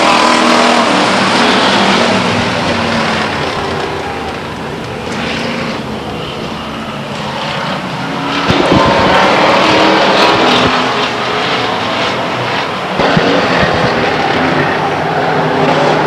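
Race cars at Stockton 99 Speedway roar as they pick up the throttle at the green flag, a loud, continuous engine drone that swells with passing cars, with a race announcer talking over it.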